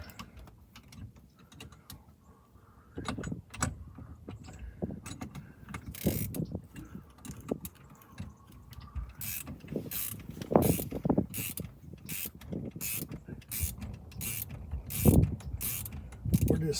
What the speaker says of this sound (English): We're just setting up the steering wheel puller here.